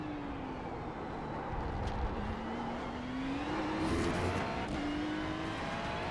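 Ferrari GT3 race car engine in a racing game at Sebring, a steady high whine rising in pitch through the gears with a couple of sharp shift blips, heard from the cockpit.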